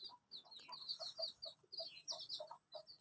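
A hen with seven small chicks clucks in a quick, uneven series of short calls, fairly faint, with high chirps mixed in.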